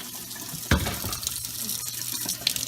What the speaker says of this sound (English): So I'm going to turn my water on in my house.